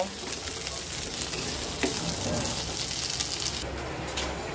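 Potatoes frying lightly in hot oil for a soybean and potato curry, producing a constant close sizzle with a brief clatter partway through and a faint voice in the background.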